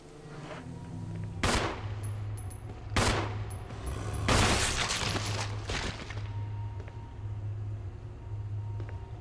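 Bursts of gunfire from the PC game Resident Evil HD Remastered, three sharp loud volleys spaced a second or two apart over a steady low game hum, with no talking.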